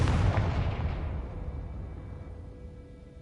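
Confringo fire-blast spell in the Hogwarts Legacy video game: a single loud explosive boom at the start, its rumbling tail fading gradually over about three seconds, with no voices.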